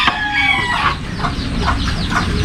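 A frightened chicken clucks in rapid, agitated bursts, a sharp squawk followed by a string of quick repeated clucks, close and fairly loud against a low background rumble.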